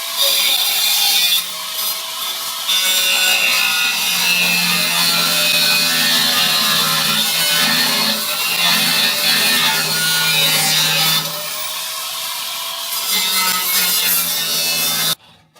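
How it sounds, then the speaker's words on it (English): Saw cutting through the last bolt on a 1971 Chevrolet Nova fender, a loud harsh continuous grinding-rasp that runs almost the entire clip with two short pauses, close up and without talk. "I had to cut the last bolt"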